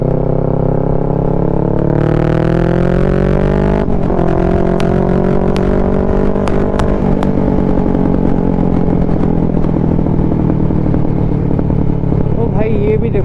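A Kawasaki Ninja 650 fitted with a full-system Mivv exhaust is ridden on a road cut through hills, its engine droning loud and close and rising and falling through the gears, with a few sharp crackles and pops.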